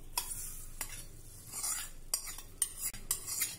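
Hot tempering of cumin, mustard seeds, a pinch of asafoetida and curry leaves is tipped onto guava chutney and stirred in with a spoon: brief scraping strokes and light clinks over a faint sizzle, close by, with no talking.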